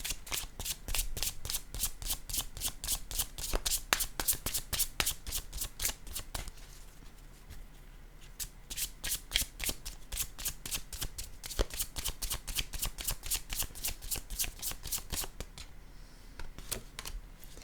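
Tarot cards shuffled close up in rapid flurries of crisp riffling flaps, pausing briefly around the middle before resuming; no talking.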